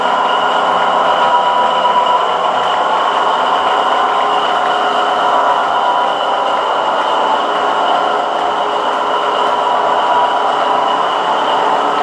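A gauge 0 model railway train runs steadily along its track with a continuous whirring rumble and faint wheel hiss, loud and close with no talking.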